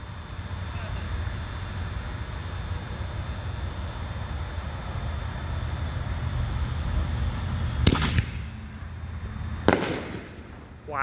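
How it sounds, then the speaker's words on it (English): Fixing a Fire ball shell fireworks by Shogun, with large breaks, heard as two loud, sharp explosions a couple of seconds apart over steady outdoor background noise, followed by a faint crackle. "Fixing a fire has some really big breaks, almost as big as canister shells"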